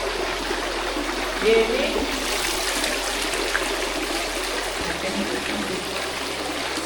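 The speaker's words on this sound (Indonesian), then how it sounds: "Jadi ini salah satu bagus ya air terjun ya." A waterfall inside Cerme cave gives a steady, full rushing hiss of falling water that fills the space. A voice speaks briefly over it near the start.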